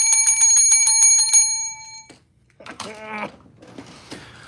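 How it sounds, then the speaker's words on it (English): Bell ringing in a fast, bright metallic run of repeated strikes that ends after about two seconds, followed by quieter scattered clatter and sounds like a voice. "Stop the fucking bell."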